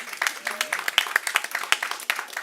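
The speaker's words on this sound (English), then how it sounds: "Give them a round of applause." Crowd applause at an outdoor New York City rally against e-cigarette marketing to kids, scattered individual claps forming a moderate round of clapping with a voice briefly audible underneath.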